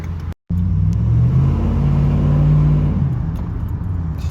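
A 2005 Dodge Ram 1500 pickup truck rolls along with a loud, close engine drone and low road rumble, briefly cut off near the start, then steady with a faint rise in pitch and no talk.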